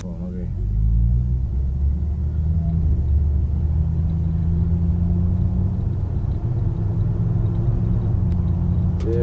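A 1971 postal jeep cruising steadily at highway speed puts out a continuous low engine and road rumble, with a voice talking over the drone.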